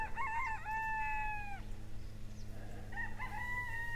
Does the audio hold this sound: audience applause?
no